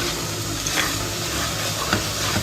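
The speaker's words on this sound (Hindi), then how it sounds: "सबसे पहले मैं बारीक काटे हुए बादाम मिक्स करूँगी।" Chopped almonds being stirred into pumpkin halwa in a pan, a steady soft scraping and gentle sizzle running continuously at low level with faint stirring strokes, no voices.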